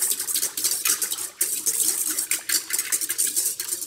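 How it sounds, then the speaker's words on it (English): Active dry yeast is whisked in a bowl for bread dough, a quick continuous run of light metallic clinks and swishes, close and steady the whole time. "And we're gonna whisk that around. Whisk it around just to mix."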